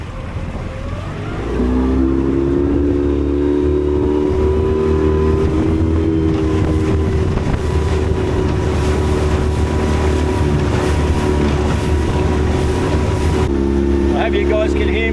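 A small motorboat engine drones steadily out on the water, starting up after a quiet moment and holding a loud, even pitch with wind buffeting the microphone, dropping slightly in tone near the end.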